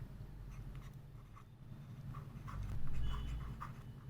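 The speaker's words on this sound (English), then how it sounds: "I'll just write in the steps." A pen scratches out maths steps in short strokes and taps, faint and close, over a low steady background hum.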